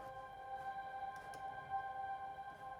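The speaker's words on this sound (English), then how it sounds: "So that's just the regular sound of that kind of string Evo pad thing that's going on." An ambient string Evo synth pad sustains a soft, steady chord with the low end removed, faint and alone, holding smoothly without clear attacks.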